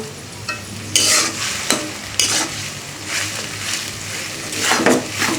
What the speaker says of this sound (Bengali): টমেটোটা একদম মিক্সড করে দিব